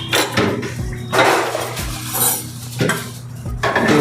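Metal utensils and steel tiffin boxes clink and clatter repeatedly as dal and brinjal curry are ladled in during tiffin packing, close and fairly loud, with scraping and knocking bursts at irregular intervals and no talk.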